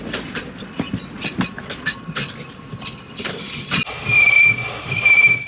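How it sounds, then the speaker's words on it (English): A North Korean steam-hauled train rolls along with rhythmic rail clacks and mechanical rattling, then a sustained high metallic squeal of wheels or brakes joins in toward the end. "we take a special journey north behind one of the few surviving steam locomotives in the country"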